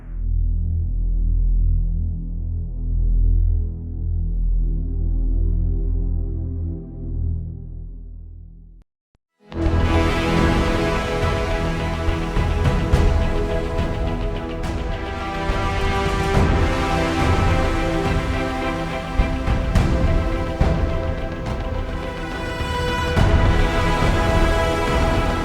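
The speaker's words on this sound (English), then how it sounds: "when that bass hits, and I love Zebra 2 and Hans Zimmer Zebra because they have these big low end sounds" Deep synth bass from a Zebra 2 synthesizer in a film score: a low, throbbing drone swells, drops out for a moment, then returns as a loud, sustained, dense bass-heavy wall of sound.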